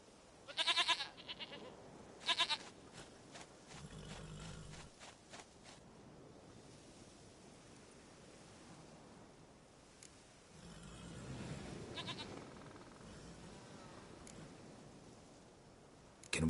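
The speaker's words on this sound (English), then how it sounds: "Goat of mine, dearest, sweetest goat." A goat in the video game The Witcher 3 bleats twice in quick succession near the start, then quieter ambient game sounds with soft wave-like washes follow over a faint background.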